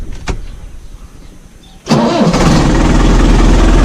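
A New Holland TD90 tractor engine cranks and suddenly roars to life, settling into a loud, steady rumbling idle after a couple of quiet clicks.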